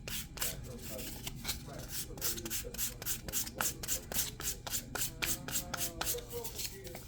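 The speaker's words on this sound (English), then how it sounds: "sand all these edges down again" Sanding the edges of a three-pocket card wallet with 500 grit sandpaper, a steady run of close, rhythmic rasping strokes, each a short scratchy sweep repeating about twice a second, with no speech.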